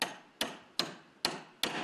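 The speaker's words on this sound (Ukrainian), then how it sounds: "З молотком у руках і на драбині нас зустрічає власник кафе пан Василь." A cafe owner on a ladder at Odesa's Privoz market hammers with a hammer: five sharp, evenly spaced strikes, each ringing briefly before the next blow, with no talking.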